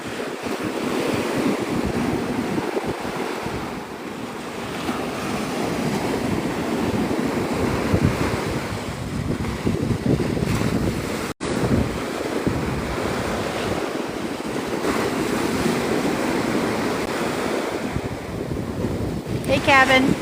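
Strong wind buffeting the microphone on Navarre Beach at sunrise, with waves washing ashore underneath, a loud continuous roar with one brief dropout, no talk.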